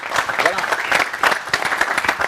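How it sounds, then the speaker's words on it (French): An audience at a French-speaking stage show applauds, with brisk, dense clapping for a couple of seconds, loud and close, with crowd murmur mixed in. "Applaudissements s'il vous plaît pour elle."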